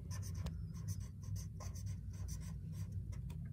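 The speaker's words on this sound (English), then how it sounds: "So I could write that down." A pen scratches across paper while someone writes a note beside a drawing: close, continuous scribbling strokes with short pauses between them, heard alone with no speech.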